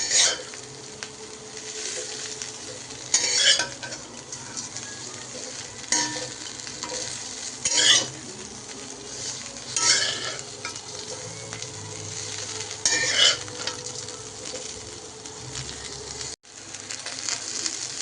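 Cauliflower florets frying in oil in a pan for a Tamil cauliflower fry, a continuous sizzle with periodic louder scraping bursts as the pieces are stirred.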